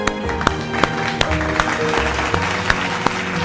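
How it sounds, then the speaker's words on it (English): Audience applause at the Reliance Family Day 2021 corporate event: a large crowd claps steadily and fairly loudly, with sharp, evenly spaced accents running through the clip and no voices over it. "Let's give a huge round of applause"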